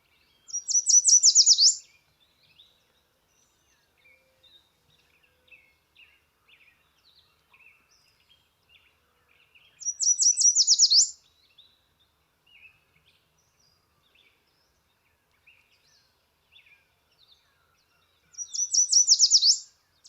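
A warbler sings three bright, high-pitched phrases of a sweet repeated song, spaced roughly eight seconds apart, clear and fairly close against a quiet background with faint scattered chirps between phrases.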